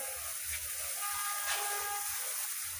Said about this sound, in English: lay down a good amount of sodium hypochlorite here on this floor